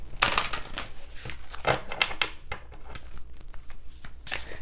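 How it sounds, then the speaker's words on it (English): Oracle cards from the Divine Animals Oracle deck being shuffled, a run of quick papery riffles and soft slaps close by, coming in bursts with short pauses and no talk. "Let's do some shuffling."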